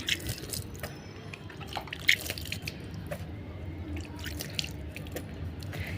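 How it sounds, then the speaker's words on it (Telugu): Water sprinkled by hand onto soil over freshly planted curry leaf seeds, heard as scattered soft drips and patters that land irregularly, quiet and close, with no talking. "నీళ్ళు చల్లాలి మెయిన్ నీళ్ళు పైకి ఎత్తి చల్లాలి"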